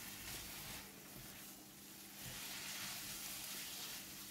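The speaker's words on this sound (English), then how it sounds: "Give it a stir for about 45 seconds or until seasonings are well combined." Mee goreng yellow noodles stir-fried with seasonings over high heat, giving a steady, close broadband sizzle with light scraping throughout, no voices.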